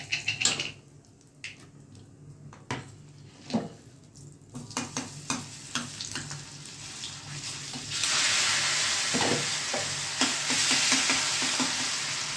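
Tempering spices dropped into hot oil for oro (Gujarati roasted eggplant dish), starting with sharp scattered crackles and pops, then swelling into a loud steady sizzle with intermittent stirring clinks.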